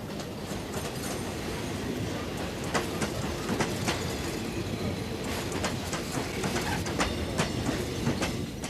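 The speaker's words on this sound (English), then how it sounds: "trains still carry Mozambican workers to and from the gold mines of South Africa." A train carrying Mozambican workers to and from South Africa's gold mines rolls past near the South African frontier, with steady rumble, rhythmic clickety-clack of wheels on rail joints and occasional faint squeals, without speech.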